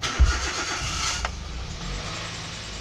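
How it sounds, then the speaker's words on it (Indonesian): A car engine cranks and catches in the gearbox-in-neutral start, a brief starter whirr followed by the engine settling into a steady idle, close and moderately loud with no talking. "Sekarang akan saya starter mobilnya."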